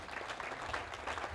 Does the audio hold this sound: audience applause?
yes